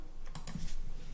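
Typing PHP code on a computer keyboard, a few quick close key clicks in a short burst over a quiet room background.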